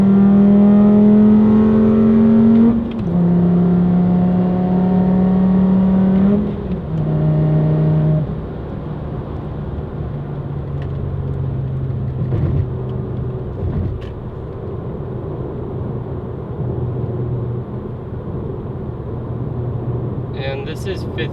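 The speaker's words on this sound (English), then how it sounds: "I will go get on the freeway so you guys can hear that. Alright, this is going to be a freeway pull." Loud, close engine drone of a VW Golf 2.5 with an AWE Tuning exhaust accelerating on a freeway, pitch climbing through gears with shifts, then settling into a steady cruise rumble with road noise.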